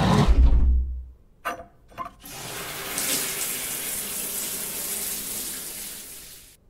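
Shower water in the Nightmare of Decay game starts with a couple of brief knocks, then gushes into a steady, fairly loud hiss of spray that runs on without a break.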